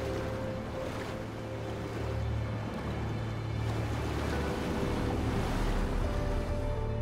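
Fast tidal water rushing along a river, a steady broadband wash with a low rumble that stays loud and continuous throughout, without speech.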